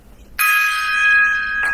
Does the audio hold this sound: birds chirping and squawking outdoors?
no